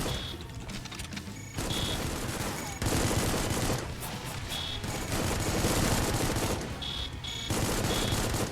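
Bullets fired in the retro shooter Supplice come as sustained loud volleys of rapid automatic fire, continuous and dense, with brief metallic pickup-like tones breaking through between bursts.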